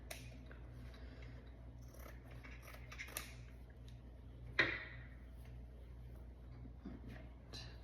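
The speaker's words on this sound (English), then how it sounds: "And I'm gonna trim that fabric just a tiny bit more." Scissors trim the fabric edge of a hanging sign. Soft, scattered snips and handling noises sit close in a quiet room, with one sharper cut standing out partway through.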